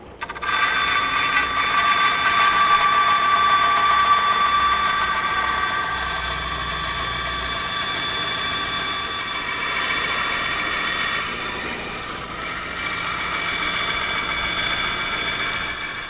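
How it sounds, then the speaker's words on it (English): Bandsaw cutting a wooden floor board for a sailboat, a loud, steady whining hum that runs on without a break and eases slightly partway through, with no talking over it. "We just happen to have the bandsaw set up here, so that's what we're going to do."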